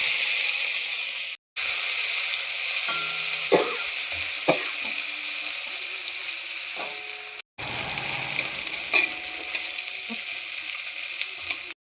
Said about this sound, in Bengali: এবার আমি ওই তেলের মধ্যেই দিয়ে দিচ্ছি নারকোল। নারকোলটাকেও আমি ভেজে তুলে নেব।